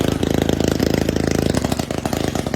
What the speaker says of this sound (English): the constant noise of longtail boats